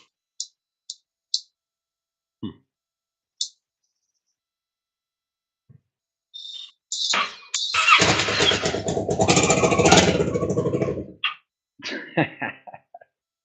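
A Kawasaki Ninja 650R engine with its exhaust headers not properly attached fires up after a few scattered clicks and clanks, then runs loudly and roughly for several seconds before cutting off, followed by brief bursts of noise.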